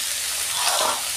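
Onions dropped into a pan of frying vegetables for egg chow mein, a continuous close sizzle that swells briefly as they hit the hot oil.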